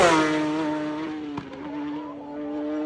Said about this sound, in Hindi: यहाँ रोड्स पर कुछ बम्प्स भी बने हैं, जिन पर ये हाई स्पीड बाइक्स कुछ इस तरह से फ्लाई करती हैं।